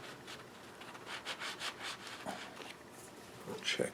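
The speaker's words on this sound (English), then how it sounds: "I'm just going to go ahead and give it a little bit of sanding sponge" A sanding sponge rubs across the finish of an Epiphone Slash November Burst Les Paul guitar in a run of soft, rhythmic back-and-forth strokes, close and quiet, with a few light knocks near the end.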